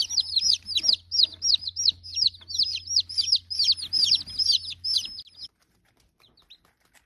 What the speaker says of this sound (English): The rooster is the one right there.